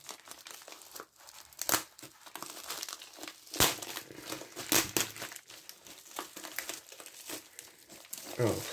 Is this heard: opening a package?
yes